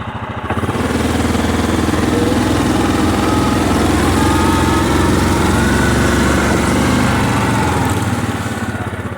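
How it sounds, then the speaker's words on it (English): Loud, steady engine drone of a 4-wheel-drive vehicle driving a frozen winter trail at Big Lake, continuous and close throughout, with no talk. "I'm in 4-wheel drive, so if I was in 2-wheel drive, I'd be slipping all over the place right now."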